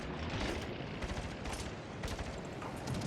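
Warship guns firing in World of Warships, a dense, continuous rumble of booming salvos and rapid blasts that stays loud and unbroken throughout.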